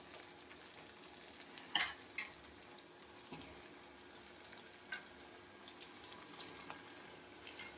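Fried valugu fish pieces get stirred and mashed into a paste in a frying pan, a faint sizzle under scattered spoon scrapes and one louder clatter near the start, with no talking.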